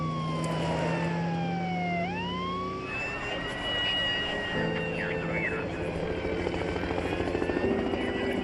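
Emergency vehicles arrive at a plane crash site near Cincinnati's International Airport, wailing sirens sweeping up and down over a helicopter-like rotor drone, with voices under the din.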